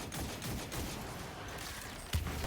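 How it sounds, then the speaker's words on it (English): A Point Contact Cannon Brace fires in Destiny 2 during a solo Grandmaster Nightfall, with dense rapid combat shots and one sharper close blast near the end. No voices are heard. "That's my point contact cannon brace at least doing some good."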